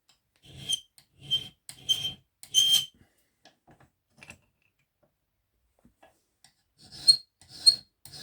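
A hand file rasps across a small metal ratchet pawl in a workshop: four crisp strokes in a row, a pause with faint scrapes, then two or three more close strokes.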